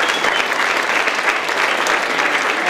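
Warm applause from an audience of about 200 at an 80th birthday tribute, with dense, steady clapping that is loud and continuous throughout.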